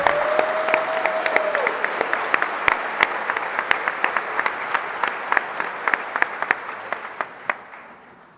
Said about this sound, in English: One more round of applause for our bioengineers.